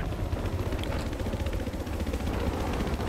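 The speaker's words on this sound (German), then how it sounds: "Wo ist denn der Heli?" A helicopter in the video game Battlefield 4, its steady rotor chop throbbing loud and close with a dense engine drone and no voices over it.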